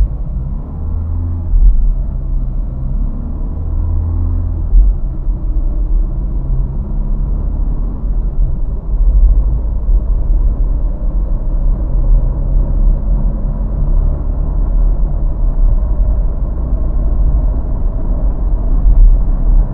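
A Dacia Logan MCV estate with the 1.5 dCi diesel and Easy-R automated manual gearbox accelerates hard, its low engine drone rumbling steadily inside the cabin, with slight dips where the automated gear changes interrupt the pull.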